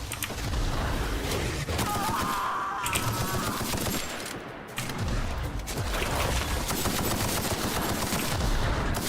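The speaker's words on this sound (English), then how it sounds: "Oh, I got this rifle. It's a zappy rifle." Zappy energy rifle fired in The Outer Worlds, a long run of rapid, crackling automatic shots that pauses briefly midway and then resumes amid the noise of combat.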